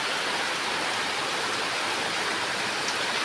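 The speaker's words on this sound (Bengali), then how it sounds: "কি জোর বৃষ্টি হচ্ছে।" Heavy rain pours down steadily over a flooded village road, a dense, even hiss that stays loud and unbroken throughout with no voices.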